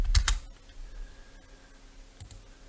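Keys on a computer keyboard are struck, a quick pair of sharp clicks at the start and another soft tap near the end, close and clear over quiet room tone.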